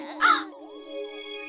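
A single harsh crow caw sounds up close, followed by a faint whistling tone that lingers.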